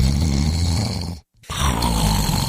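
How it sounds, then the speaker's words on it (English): Snoring in a radio advert: loud, rasping, continuous rumbling breaths that cut out for a brief moment of silence, then resume, close up with no voices. "What if you could stop the snoring instantly without nose strips, mouth guards, or a procedure?"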